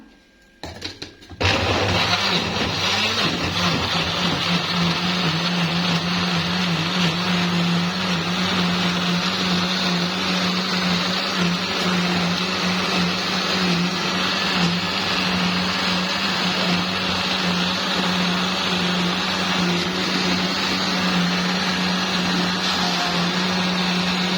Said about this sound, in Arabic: نحطها في الخلاط